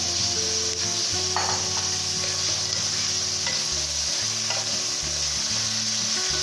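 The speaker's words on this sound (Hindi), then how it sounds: "इसे हम अच्छी तरह भून लेंगे।" Half a kilo of chicken mince fries in a pan, a steady close crackling sizzle joined by occasional scraping stir strokes and a low background hum.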